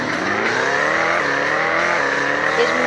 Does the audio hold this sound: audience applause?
no